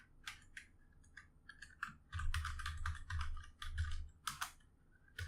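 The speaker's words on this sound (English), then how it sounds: "oh, I don't like typing, man" Quiet typing on a computer keyboard comes as scattered bursts of crisp key clicks, broken by short pauses and a few duller thumps. No one speaks.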